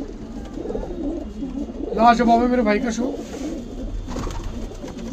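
Pigeons coo in a soft throaty burst, close by and mixed with someone talking over a steady background hum.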